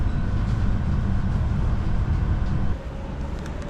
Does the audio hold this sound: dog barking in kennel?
no